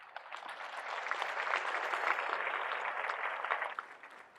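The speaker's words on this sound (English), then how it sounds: "you guys deserve a round of applause" Applause from a crowd rises and holds at steady moderate volume for a few seconds, a dense wash of clapping with no talking over it.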